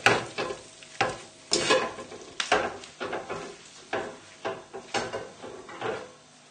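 Tagliatelle with liver, bacon and rocket tossed in a pan, giving repeated scraping, stirring swishes at an irregular rhythm with a faint sizzle beneath, close by and with no talking.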